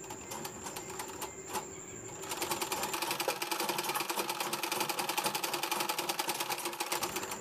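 A sewing machine stitches along the edge of a blouse, its needle running in a rapid, even mechanical rhythm, close and steady, after a brief stretch of lighter whirring at the start.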